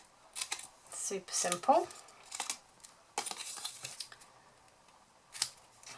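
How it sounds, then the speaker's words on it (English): Scissors trimming the four corners of a card box into small wedges for a cottage rose favour box, a few close crisp snips and paper rustles, with a brief spoken remark between the cuts. "we're just going to trim the 4 corners into little wedges"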